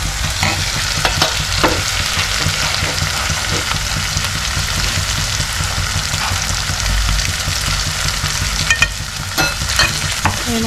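Garlic chutney sizzles and fries in oily dal gravy for masoor dal, a steady crackling hiss with stirring scrapes throughout, close and fairly loud with no talking.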